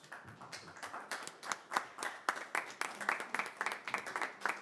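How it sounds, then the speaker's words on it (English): Council meeting audience claps for fire department members, a brief, fairly faint patter of separate hand claps in an uneven rhythm, without speech. "I think they deserve a big round of applause for all they do to help us."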